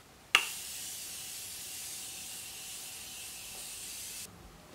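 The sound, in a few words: spraying Morphe Setting Mist on face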